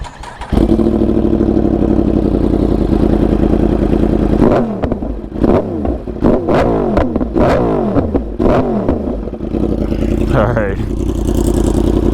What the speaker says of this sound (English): I'm gonna close it out with the exhaust rev.